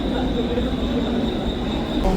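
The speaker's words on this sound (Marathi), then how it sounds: "फायनली ट्रेन आली आमची" A Mumbai local train pulling into the station bound for Kalyan, a loud close rumble of wheels on rails with a sustained high squeal, voices faintly underneath.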